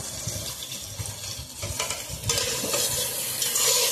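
Spiced masala with salt, turmeric and chili powder fries for a chicken curry, stirred with scraping strokes while the sizzle grows louder and brighter in the second half, close and without speech.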